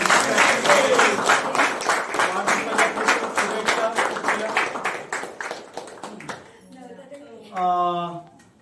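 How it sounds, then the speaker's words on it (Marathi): Office staff give loud, sustained applause at a workplace birthday celebration in an insurance office, dense clapping that fades out near the end before a voice briefly speaks. "आज आपण सगळ्यांनी जोरदार टाळ्या वाजून शुभेच्छा दिल्या"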